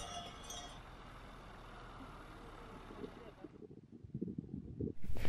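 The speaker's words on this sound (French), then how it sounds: "il y a le vent qui souffle mon chapeau" Wind gusts buffet the microphone on a hike across the Jura mountains, a steady, loud, roaring rush that drops away midway, leaving quieter rustling and bumps before another gust rises at the end.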